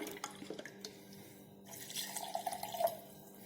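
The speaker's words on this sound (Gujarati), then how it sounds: "હવે આપણે તેની અંદર અડધો ગ્લાસ ફ્રીજનું ઠંડુ પાણી એડ કરીશું।" Half a glass of cold water from the fridge is poured into a mix of chaat masala and other ingredients for a homemade drink, producing a faint, close trickle and light drips that rise slightly toward the end.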